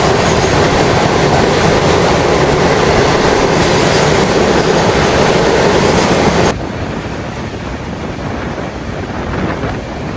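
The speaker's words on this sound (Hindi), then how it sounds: "ये देखो भाई, parallel race with goods train." Loud, continuous rumble and rattle of an Indian Railways passenger express running alongside a goods train, with wheel clatter and strong wind buffeting that drops noticeably once the goods train passes partway through.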